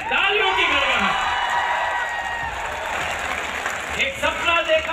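Loud, sustained applause from a young crowd at a college event, dense clapping with a few whoops, easing slightly toward the end.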